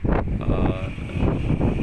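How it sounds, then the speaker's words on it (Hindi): Strong gusts roar across the swaying Salig suspension bridge at Khaplu in Baltistan, a loud, rushing wind buffeting the microphone in uneven surges. "तेज़ हवाएं हैं और तेज़ हवाओं में पुल पूरी तरह से झूल रहा है"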